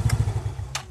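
A motorcycle engine running close by at a checkpoint, a low throbbing chug with a quick pulsing rhythm and a couple of sharp higher clicks over it.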